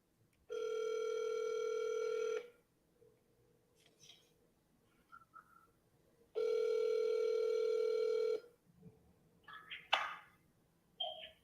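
An outgoing phone call rings twice, each long ring tone lasting about two seconds with a pause between, followed by faint clicks and handling noise.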